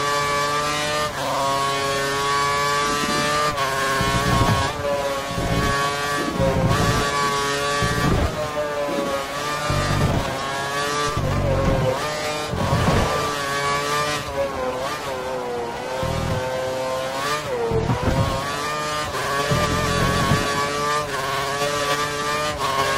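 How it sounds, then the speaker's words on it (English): Formula One race car engine from the F1 2013 video game, screaming at full revs nearly nonstop, with quick gear-change dips and a steady loud whine throughout, no voices. "I think the car behind is running on full revs"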